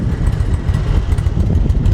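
A carbureted 2002 Harley-Davidson Electra Glide Standard FLHT V-twin with about 11,000 miles idles close by, a steady uneven low lope rumbling continuously with no talk.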